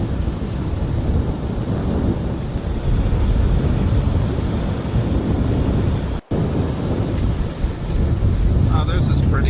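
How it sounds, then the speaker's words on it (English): Fierce snowstorm wind buffets the microphone in a loud, roaring rush that barely lets up for the whole stretch, with one brief dropout partway through. "the wind is fierce here"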